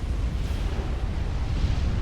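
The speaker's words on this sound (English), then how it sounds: "And another explosion up there to the north." Explosion in the real-time strategy game Supreme Commander, a dense rumbling boom with sustained low-end roar and no clear sharp onset, moderately loud throughout.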